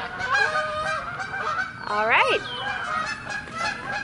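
Several geese honk loudly in a burst of rising, squawking calls, set against a steady outdoor background with a person speaking briefly.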